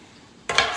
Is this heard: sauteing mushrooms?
yes